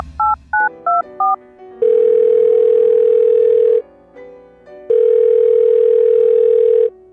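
Telephone call being placed: four quick DTMF keypad beeps, then two long steady ringback tones separated by a short pause, loud and clear with no talk.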